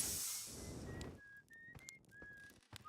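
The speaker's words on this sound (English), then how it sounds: "Oh, so that's the whistling." In the space exploration video game Outer Wilds, a faint hiss fades out. A series of thin, clear whistling tones follows, rising in short steps with brief clicks between them.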